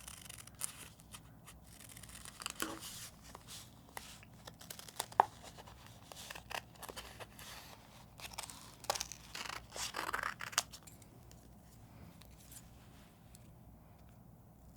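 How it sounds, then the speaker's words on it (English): Scissors snipping through a vinyl sheet, a series of short irregular cuts and crinkling rustles, close and fairly quiet with no talking. "So we're going to put this out to help us cut out what we need for our vinyl sheet."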